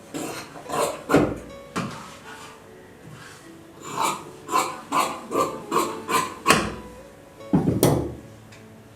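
Scissors cutting through layered fabric for tailoring, a steady run of crisp snipping strokes in quick succession, close and fairly loud, with no speech.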